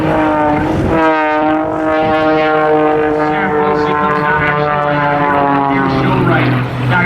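A propeller aerobatic airplane flies vertical climbs and hesitation rolls at the Laredo airshow, its engine a loud, steady droning whine that rises and falls in pitch, with an announcer talking over it throughout.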